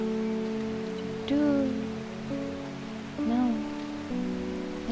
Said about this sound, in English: At least the sound of the rain is nice.